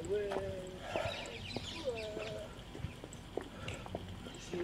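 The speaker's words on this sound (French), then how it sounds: "on entend le chant des oiseaux" Birds chirp and whistle in short, clear phrases outdoors, moderately close, over a steady murmur of background noise and some clattering.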